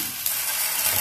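Brinjal fries in a pan with a bright, continuous sizzle at close range, with a faint stirring scrape partway through and no voices.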